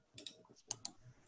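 A computer keyboard with a stuck 4 key gives a few quick, sharp clicks and taps at close range, with two louder snaps near the middle and low room noise between them.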